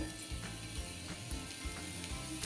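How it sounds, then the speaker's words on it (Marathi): Chopped garlic cloves sizzle in hot oil in an iron pan. The frying hiss is steady and fairly quiet, with faint irregular crackles throughout and no talking. "आता ह्यामध्ये आपण ज्या बारीक लसणाच्या पाकळ्या केल्या होत्या ना त्या घालूया"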